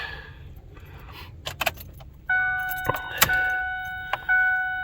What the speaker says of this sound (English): See about third crank. Third crank, she starts.